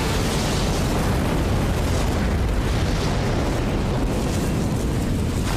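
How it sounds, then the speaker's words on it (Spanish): A massive truck bomb blast at the rear of the Murrah federal building in Oklahoma City, heard as a loud, sustained broadband roar of rumble that fills the whole stretch without letup. "La bomba explotó."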